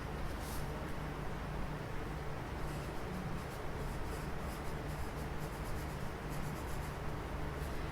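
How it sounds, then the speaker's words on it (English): Pen writing in a notebook while jotting down a measurement, a soft continuous scratching close by with faint broadband hiss and brief strokes throughout, no talking. "And I'm going to write it down on my notebook."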